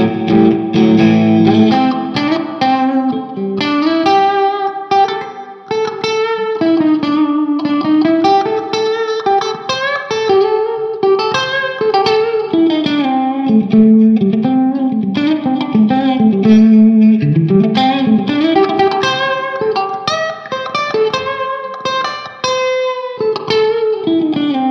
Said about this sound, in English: Let's go to the second position, which is going to be the bridge and the middle pickup.